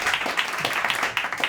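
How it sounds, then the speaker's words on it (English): A roast battle crowd in a New York comedy club gives a contestant steady, dense applause, many hands clapping together in a loud continuous patter from start to finish. "Clap if you think that person was Dorian DEBOSE"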